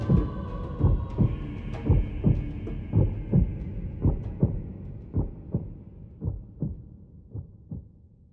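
From a trailer for the sequel to Zelda Breath of the Wild, a deep, booming heartbeat pounds in steady double thumps that slowly space out and fade, with a faint tone sinking beneath it.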